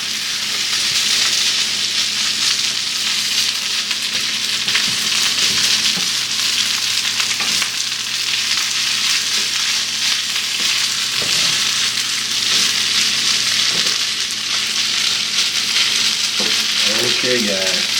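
Shrimp fried rice sizzles steadily in a hot pan, a loud continuous frying hiss with occasional scraping and stirring noises, and no talking.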